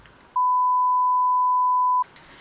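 A loud, steady censor bleep tone, a single pure beep lasting under two seconds, cuts in over faint background voices and covers a spoken word before the talk resumes.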